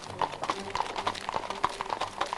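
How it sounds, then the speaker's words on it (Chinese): Rapid, rhythmic clip-clop of hooves on hard ground during a horse race at a rural festival in India, fairly faint with some background noise and no clear talk. "骑马比赛、"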